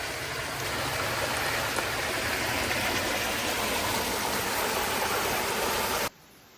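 Spring water pours steadily out of a rock in the open, a close, even splashing rush that holds constant for about six seconds before cutting off abruptly.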